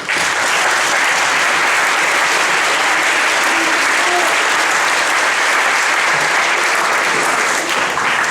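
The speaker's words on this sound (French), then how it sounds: "On peut les applaudir" Sustained, dense audience applause at a stage hypnosis show fills the whole stretch at a steady loud level, a roomful of clapping hands with faint crowd murmur beneath.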